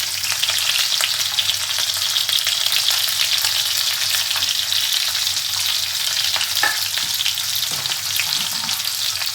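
Three onions fry in a pan with cloves and cardamom for paneer butter masala, a steady close sizzle with intermittent stirring scrapes and small pops, no voices.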